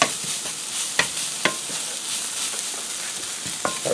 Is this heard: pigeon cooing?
no